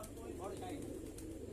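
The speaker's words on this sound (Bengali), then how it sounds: "প্রথম পায়রাগুলো দেখুন।" Pet pigeons coo inside a loft in the evening, soft repeated throaty calls close by, with a person talking quietly over the flock.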